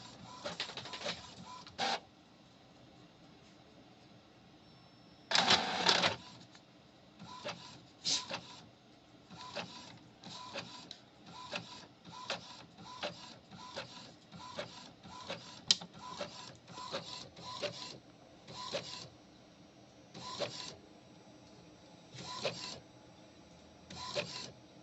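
An Epson L3250 EcoTank inkjet printer prints a motorcycle shop flyer, its print head carriage shuttling back and forth in a steady series of short whirring passes, with a louder mechanical feed burst early on, heard close and alone.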